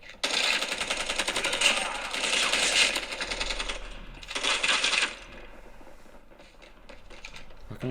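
Rapid bursts of gunfire from the mobile shooter COD Mobile rattle loudly in two long volleys with a short pause, then trail off into softer clicks and taps.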